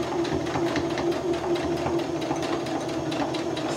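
A sewing machine runs steadily, back stitching a hospital-grade protective mask, with a continuous close, loud mechanical whir and rapid needle chatter lasting throughout.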